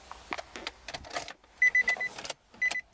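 Electric power windows in a 2002 Nissan Wingroad station wagon, heard from inside the car: a few short whirring motor runs with clicks and thumps as the glass stops, close and fairly quiet.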